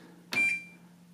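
A Sharp Carousel microwave oven gives one short, clear electronic beep close by over a low steady hum, with no talking.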